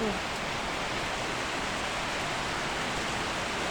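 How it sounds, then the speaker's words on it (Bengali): A dense, unbroken hiss of heavy rain pours down steadily at an even loudness throughout, with no other distinct sounds standing out. "মুষলধারে বৃষ্টি নেমে গেল। এই যে বৃষ্টি হচ্ছে"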